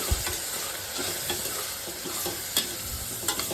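Spices being stirred into vegetables in a hot pan for moong dal khichdi, with a steady sizzle and frying crackle under irregular scraping strokes of the spoon, close and fairly quiet, no talk.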